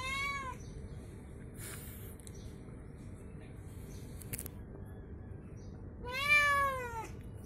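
A cat meows loudly twice, once at the start and again louder near the end, while being attacked by a monitor lizard at a roadside drain where it had been drinking; steady background noise runs throughout.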